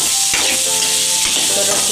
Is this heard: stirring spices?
yes